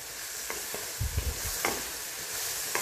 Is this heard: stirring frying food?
yes